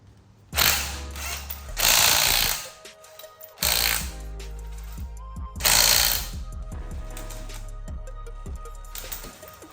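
A hand tool works loose over-torqued lug nuts on a Mazda Miata wheel, giving four loud, close bursts of rapid mechanical clattering and ratcheting, separated by short pauses filled with quieter clicks.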